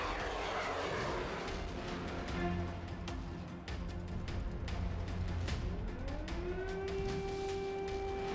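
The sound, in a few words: Shahed-136 drone engine sound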